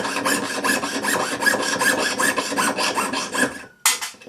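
A fine jeweller's saw blade rasps through metal in quick, steady back-and-forth strokes, close up, stopping briefly before a final sharp stroke.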